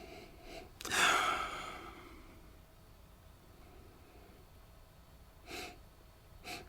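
Someone takes a sharp, close nasal sniff of an older Ballantruan 10, a peated Speyside whisky, followed by quiet breathing and two fainter short sniffs near the end.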